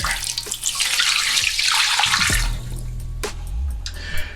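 Water poured from a cup into a toilet tank with a steady rushing, splashing sound, then tapers off into a few trickles and drips.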